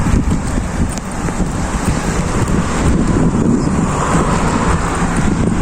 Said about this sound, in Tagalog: Mahangin naman, kaya okay na.